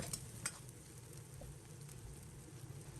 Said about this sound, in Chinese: 家里面做量小不喜欢宽油，也可以采用油煎的方式